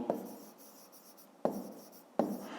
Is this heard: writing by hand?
yes